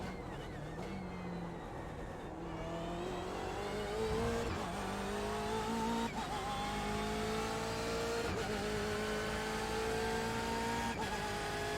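A BMW race car engine in the iRacing sim revs hard and climbs through the gears, its pitch rising and dropping sharply at each upshift, with a brief tire scrub, loud and continuous.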